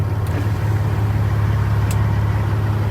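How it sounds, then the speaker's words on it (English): A Peterbilt 379 truck engine idles steadily at close range, a low, mellow, even rumble holding throughout with no breaks. "It's kind of a quiet truck, but it's got a nice mellow sound to it."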